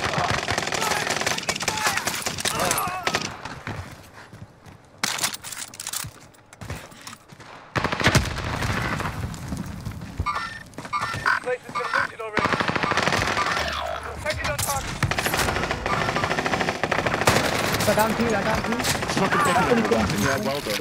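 Rapid automatic gunfire from the Warzone video game rattles in loud, dense bursts with brief pauses, near and continuous across the stretch, with someone talking over it.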